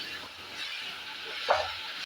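Horse gram frying in a pan with mashed tomato, salt and turmeric gives a steady, soft sizzle, with a brief louder stir or scrape near the end.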